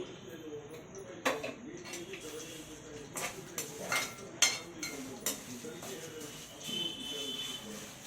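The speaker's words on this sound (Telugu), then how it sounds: "జీరా వేసుకున్న తర్వాత ఇలా కలుపుకోవాలి." Cumin, green chillies and curry leaves being stirred in a pan, a spoon clinking and scraping against the metal in irregular taps while someone talks over it.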